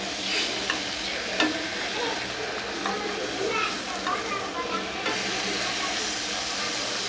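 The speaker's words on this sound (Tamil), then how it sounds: "இந்த மாதிரி நல்லா டோஸ்ட் பண்ணிக்கோங்க" Nendran banana slices toast in a frying pan with a steady, close sizzle and hiss, broken by a few light utensil taps and scrapes, with faint voices underneath at times.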